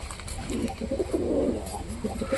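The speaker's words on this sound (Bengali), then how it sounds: "কালাঙ্কা সব পায়রা আবার ডিমে চলে এসছে" Domestic pigeons, a Kalanka pair among them, coo in low repeated throaty phrases close by, with quiet background rustle.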